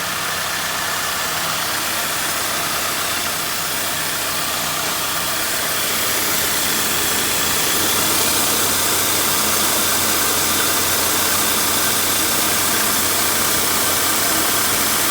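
A car engine idles after a hydraulic drive belt tensioner has been replaced, giving a steady, loud, broadband hum close to the mic that rises slightly partway through, with no talk.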